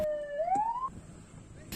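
A wailing ambulance siren sounds from a vehicle stuck in a traffic jam caused by a road blockade. One rising sweep comes through moderately loud and then fades under street noise and faint voices.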